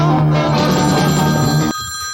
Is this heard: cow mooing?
no